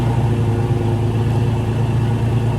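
The stock engine of a 2021 Toyota Tacoma TRD Off Road runs after a cold startup, producing a steady, loud, low rumble with no speech.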